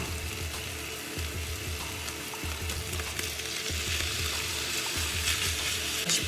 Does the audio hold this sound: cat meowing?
no